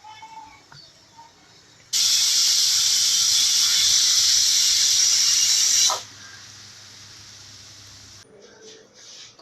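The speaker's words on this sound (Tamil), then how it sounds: "குக்கர் விசில் போயிடுச்சு." A loud, steady hiss of steam from a pressure cooker whistle while cooking veg biryani bursts in and holds for about four seconds, then cuts off, leaving quiet kitchen background.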